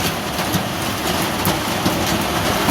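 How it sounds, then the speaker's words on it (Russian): Heavy summer downpour over a resort town park in Yeysk, a steady dense hiss of rain hitting surfaces, loud and continuous with no voices. "Течет ливень."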